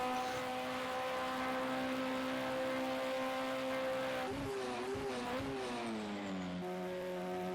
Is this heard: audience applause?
no